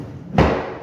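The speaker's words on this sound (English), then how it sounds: "You gotta leave your gap, tap it in place," A single dull thud as a blue pine floorboard is tapped into place, one short, fairly loud knock with no talking.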